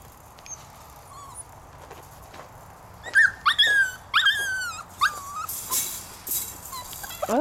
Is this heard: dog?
yes